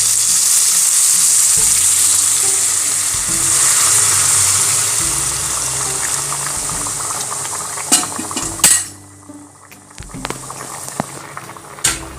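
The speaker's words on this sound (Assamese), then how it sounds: "এতিয়া মই ইয়াত দি দিম গৰম পানী" Chicken fries in a pan for a spicy masala curry with a loud steady sizzle that drops abruptly as hot water goes in, followed by sharp clanks of a utensil against the pan and quieter bubbling.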